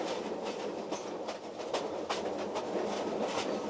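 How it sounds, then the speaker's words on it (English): Royal Orient meter gauge train running on rails, a steady near rumble with rhythmic clicking from the wheels over rail joints, and a few faint bird calls. "Isn't this a meter gauge train like any other meter gauge train?"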